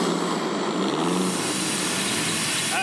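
Jet engine powered amphibious car running on water, a loud, steady roaring whine close by that holds without pause for about three seconds, with no talking over it.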